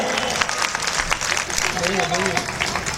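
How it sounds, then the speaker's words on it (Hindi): Applause from an audience at a Ram Katha religious discourse, a dense patter of clapping filling the clip, with a voice speaking over it. "तालियां बजाओ"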